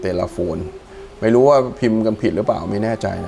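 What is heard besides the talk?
None of the usual background noises is heard.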